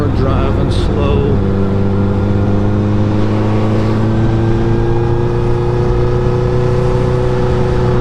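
A car engine heard from inside while driving, a steady loud drone that holds and swells slightly as it pulls forward, continuous throughout with no talking.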